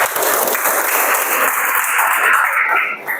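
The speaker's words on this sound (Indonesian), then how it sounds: "Ya, aplaus dulu." Dense audience applause at a presentation session, loud and close, a continuous clapping wash that holds steady for a few seconds before trailing off.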